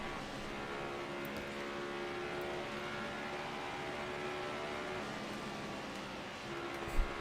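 Car engine in NASCAR Heat '24 racing game held at its rev limiter, a steady, dense buzzing drone with layered harmonic tones running continuously, ending with a brief sharp thump.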